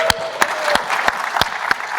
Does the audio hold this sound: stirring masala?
no